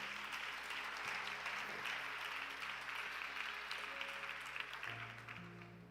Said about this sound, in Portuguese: Então aplauda Jesus bem forte.